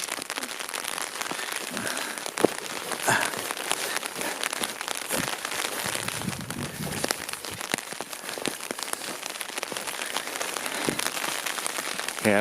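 Hard rain falls on a snow campsite in the Grand Canyon backcountry, a dense crackling patter of drops striking nearby surfaces, steady and close throughout.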